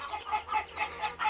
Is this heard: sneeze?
no